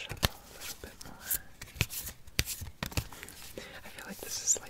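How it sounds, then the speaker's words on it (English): A deck of cards is shuffled by hand during a quiet sleepover scene, giving soft riffling and snapping bursts in an uneven rhythm, close by, with faint whispering mixed in. "so let's shuffle a little bit more."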